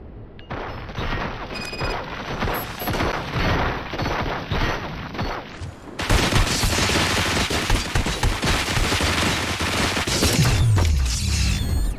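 Gunfire in RoboCop Rogue City, dense volleys of rapid shots and bursts with crashes and shattering, loud and close, growing heavier midway with booming impacts near the end.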